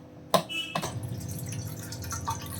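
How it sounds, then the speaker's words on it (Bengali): Water from an Aquaguard purifier runs into a bowl, starting with a sharp splash and then settling into a steady pouring trickle. "আমরা এই বোলের মধ্যে এবার অ্যাকোয়াগার্ড থেকে একটু জল ভরে নেব।"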